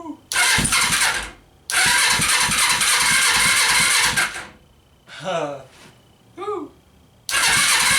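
A Suzuki GS500 motorcycle engine cranks and fires, roaring loudly in long bursts that cut out and restart, with brief exclamations from a person between runs.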